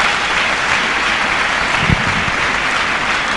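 A church congregation applauds continuously for a few seconds, a dense, steady wash of clapping with no break.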